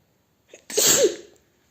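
One close, sharp human sneeze bursts out after a brief inhale, loud for under a second, then silence.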